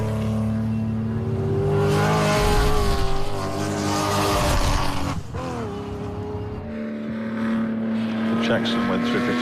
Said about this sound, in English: Charles Jackson, a lovely sort of waffle from the exhaust of that car.